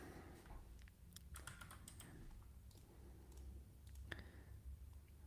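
Typing on a new computer keyboard, with a steady run of close, crisp key clicks and occasional sharper taps over a low background hum, no voices.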